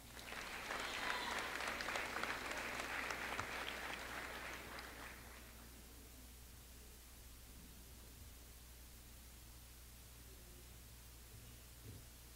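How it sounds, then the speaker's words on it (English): A baccalaureate ceremony audience for Hanna and Veterans Memorial high schools bursts into loud, dense applause for about five seconds, then fades out, leaving a quiet room hum. "Let's give them a big round of applause"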